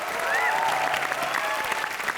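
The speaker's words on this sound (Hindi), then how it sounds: "एक बार जोरदार तालियां बजा दो इसके लिए" A studio audience at a comedy show claps loudly and steadily in applause for Bandgi, a dense close wash of clapping held throughout, with a faint voice barely showing under it.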